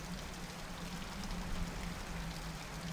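Rain in a video game falls as a faint, even, continuous patter with no voices.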